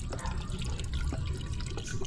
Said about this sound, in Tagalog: So yung gamit natin coolant is Pro 99, yung kulay pink. Lagay tayo.